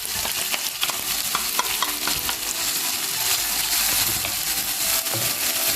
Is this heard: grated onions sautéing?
yes